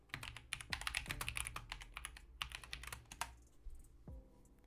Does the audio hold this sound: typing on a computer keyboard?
yes